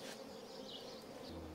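Honeybees swarm around an urban beehive, producing a dense, continuous buzzing drone up close, steady and unbroken throughout with no voices.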